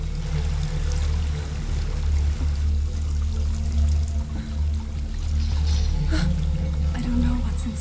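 A waterfall in the video game Hellblade: Senua's Sacrifice rushes as a steady, loud broadband roar with a deep rumble, constant and unbroken throughout.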